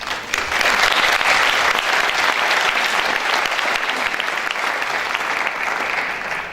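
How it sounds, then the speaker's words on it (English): A concert audience gives a big round of applause for visiting ambassadors, loud sustained clapping from a large crowd that swells quickly and stays strong, easing slightly toward the end. "they do deserve a big round of applause"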